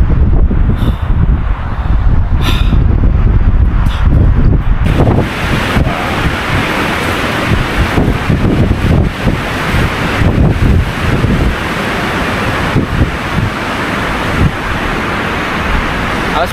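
Strong wind buffeting on Mount Wilis, a loud, continuous roar of gusts battering the microphone, rising and falling without pause for the whole stretch, with no voices.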